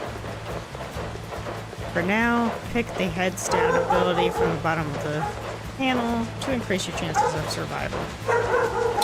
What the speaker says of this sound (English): Apologies for the barking in the background.